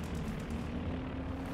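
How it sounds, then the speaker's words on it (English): A propeller airplane droning overhead in the World War II strategy game Company of Heroes 2, a steady low engine hum with a faint whine holding level and fairly quiet throughout, with no voices. "Oh god, there's another plane on top of that other plane."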